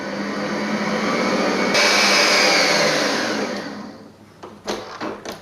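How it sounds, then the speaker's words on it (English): An electric hand mixer whirs loudly and steadily as it mixes flour into lemon sponge cake batter, its pitch shifting as the speed changes, then winding down to a few bumps and scrapes against the bowl. "At this point, go easy with the mixer."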